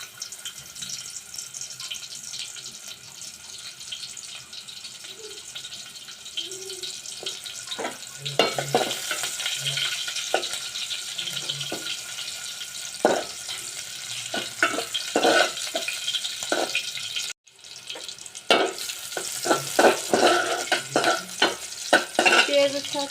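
Onions fry in oil in a wok (kadai), a steady bright sizzle that rises as stirring adds scraping clatter and spits, with one brief drop to near silence before the frying resumes.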